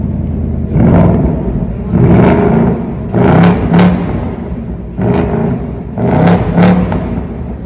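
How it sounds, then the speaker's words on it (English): A 2024 Ford Mustang GT V8 revved remotely from the key fob while parked, five separate throaty blips, each a short loud surge over a steady idle rumble. "You can even rev the car remotely with the key."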